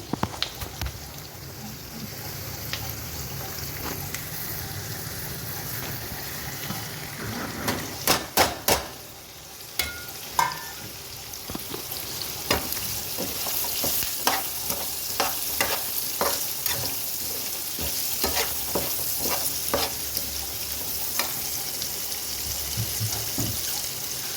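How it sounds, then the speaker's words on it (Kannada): Onions frying in a pan for a tamarind rice dish, a steady sizzle throughout, punctuated by sharp clicks and scrapes of a spoon stirring, with no voices. "ಇವಾಗ ಈರುಳ್ಳಿ ಹಾಕ್ತಾ ಇದ್ದೀನಿ"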